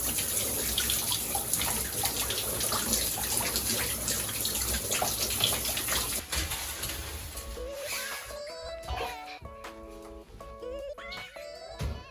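Shower water streams steadily as a broad, dense hiss for about six seconds, then thins out into scattered drips and splashes, with soft tonal sounds appearing near the end.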